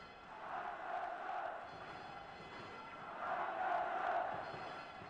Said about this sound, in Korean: 관중 속에서 큰 외침이 들려왔다. 박철순을 부르는 소리였다.